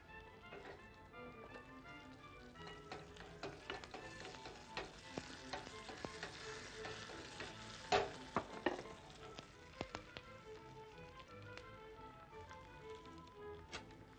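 Oil sizzling and crackling steadily as garlic and curry leaves fry in a tempering, with occasional stirring taps and scrapes against the pan.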